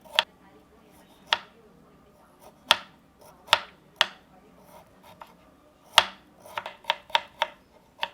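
A knife chops carrot into small pieces for a vegetable pickle, making sharp, irregular clicks on a board that are close and fairly quiet, spaced apart and then quickening toward the end.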